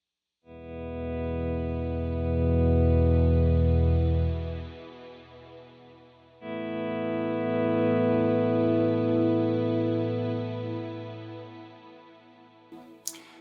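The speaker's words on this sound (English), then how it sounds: "Sometimes I'll use the ensemble on here for swells," Two slow guitar swells through a Cloudburst pedal's ensemble setting, a shimmering chorus-like effect, each fading in softly and sustaining, the second rising after a short dip.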